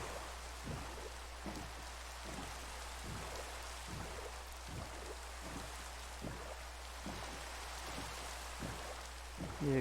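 Steady rain falling in the Minecraft video game, a soft continuous hiss with faint patters at an even level throughout, and no talking.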